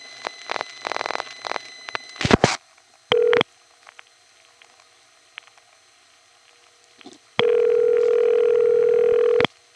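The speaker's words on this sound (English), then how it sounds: "you did hear the number being sent to the crossbar 1 all at once." A panel telephone exchange in the Bronx (Grand Concourse) sends a dialed number to a No. 1 crossbar switch. Clicking relay pulses come first, then short tone bursts, and finally a long, loud steady tone near the end, with no talk.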